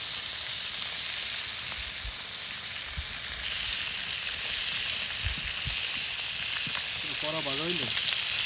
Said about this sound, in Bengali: শেষ মাছ ভাজা প্রায় শেষ